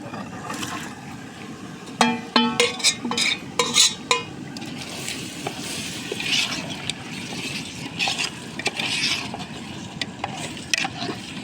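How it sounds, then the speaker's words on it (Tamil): Marinated chicken drops into a hot pan of masala for a country-chicken curry, giving a steady sizzle and frying hiss with a burst of clattering stirring and scraping partway through, no voices. "இப்போ நம்ம மேரினேட் பண்ணி வச்ச இந்த சிக்கனையும் போட்டுடலாம்"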